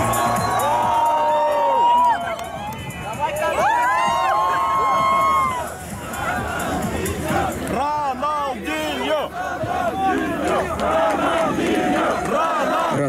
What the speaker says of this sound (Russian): парк открыт под ваши аплодисменты